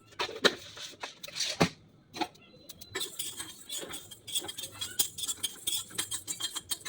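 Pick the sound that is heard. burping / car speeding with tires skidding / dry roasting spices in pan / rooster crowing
dry roasting spices in pan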